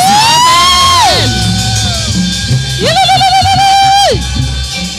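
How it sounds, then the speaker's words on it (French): A church congregation at a Sunday service cries out in joy for Jesus, with loud sustained whoops and shouts rising in two long swells over a crowd din. "Quelqu'un peut pousser les cris de joie pour Jésus"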